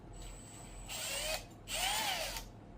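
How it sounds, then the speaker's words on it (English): A power drill whirs in two short bursts while drilling into a Honda EZ 90 Cub, its pitch rising as it spins up, against a low steady background hum. "I know you're not supposed to use a drill, but screw it"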